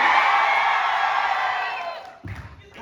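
Crowd at a college of pharmacy farewell party lets out a loud sustained roar of cheering and whooping, fading after about two seconds into scattered shouts.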